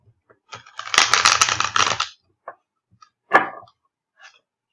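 Oracle card deck being shuffled by hand, a dense riffling flutter of cards for about a second, followed by a few short taps and one brief card snap, close and fairly loud with quiet gaps between.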